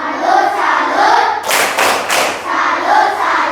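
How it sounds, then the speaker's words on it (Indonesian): Schoolchildren in a classroom doing a rhythmic 'tepuk salut' clap, a short burst of a few sharp group claps in quick succession, set among the children's chanting voices before and after. "Tepuk salut."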